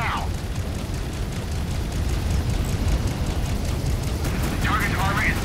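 Spaceship weapons in the video game Fractured Space fire at a target as a dense, continuous barrage of heavy booms and rumbling bursts, with brief voice fragments at the start and end.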